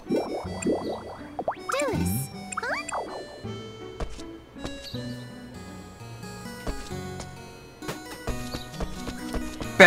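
Hooves clop in an uneven rhythm alongside a couple of rising whinnies, mixed with dripping, tinkling game sounds and scattered clicks, from Rune Factory 4 Special.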